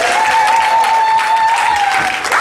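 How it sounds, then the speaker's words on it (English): Congregation clapping and cheering at a youth rally, dense sustained applause filling the room with a steady roar of hands, close and loud throughout, with a long whoop or cheer riding over it. "Come on, clap it up, clap it up."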